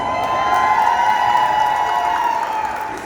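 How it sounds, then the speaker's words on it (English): A live festival audience at a podcast event applauds and cheers for Debbie Brown, a loud sustained roar of clapping and whoops that carries on throughout. "You can clap"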